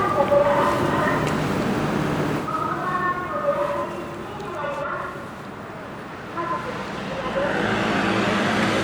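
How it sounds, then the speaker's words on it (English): A van drives past broadcasting a pre-recorded loudspeaker message on a Japanese street: a wavering, amplified voice-like tone with traffic rumble, steady and moderately loud throughout. "a van just went by spewing out the sound of a pre-recorded message"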